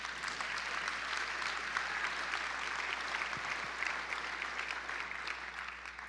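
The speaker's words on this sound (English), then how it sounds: "Yes, please clap for that." Audience applause at the Rotary International Assembly, a large hall of people clapping in a steady, moderately distant wash that fades slightly toward the end.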